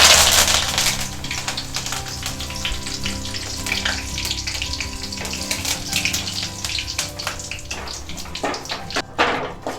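Curry leaves and mustard seeds crackle and sizzle loudly in hot homemade coconut oil, a dense, continuous spattering fry close up with sharp pops throughout and no talking.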